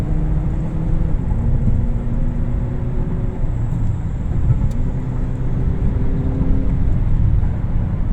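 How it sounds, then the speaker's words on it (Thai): A 2013 Honda Accord Gen9 accelerates along an open road, its engine a steady, loud low rumble with rising tonal drone that holds throughout, no talk over it. "ลองเหยียบให้ดูนะครับถนนโล่งๆนะ"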